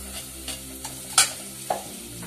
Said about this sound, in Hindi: हल्का सा भूनेंगे मसालों को।